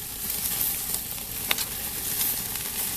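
Bacon-wrapped asparagus sizzles steadily in a hot pan over a high flame, a dense continuous crackle with a few sharper pops, close and fairly loud with no talking.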